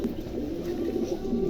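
A pigeon coos softly and continuously nearby, a low rolling warble over quiet background hum.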